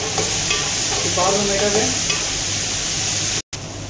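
Steady sizzling of chillies and spices frying in a pan for chicken biryani, with stirring scrapes, loud and continuous, a brief voice in the middle and a short dropout near the end.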